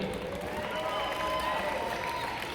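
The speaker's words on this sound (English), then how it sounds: "give yourselves a round of applause." A crowd at a Colorado Wrestling Connection show gives a round of applause, a steady roar of clapping and cheering filling the hall with whistles and voices blended in.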